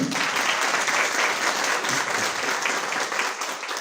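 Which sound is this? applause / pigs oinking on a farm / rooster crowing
applause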